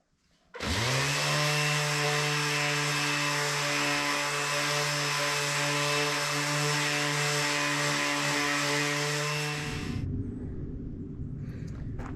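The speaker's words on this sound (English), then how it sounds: "I'm going to knock this down with the 80 grit and sand it all the way down to 400" A mesquite wood bowl tabletop is sanded with 80 grit sandpaper on a power sander, which kicks in with a loud, steady droning whine and runs continuously, then the pitch drops as it spins down near the end.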